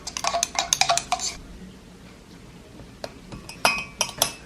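Metal utensil clinks against a bowl in quick bursts while garlic powder seasoning is stirred together, a pause of quieter rustle in between, then a few sharper scrapes and taps close by.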